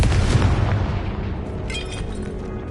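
A Confringo fire spell in Hogwarts Legacy bursts with a loud, rumbling low-end boom that lingers and slowly fades, with faint higher crackles later.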